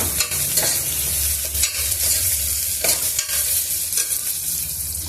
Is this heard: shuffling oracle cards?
no